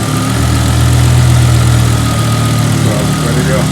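BMW M5 V10 engine idling steadily after an ignition coil replacement, a loud, continuous low rumble with an even, constant throb from up close, no voices over it.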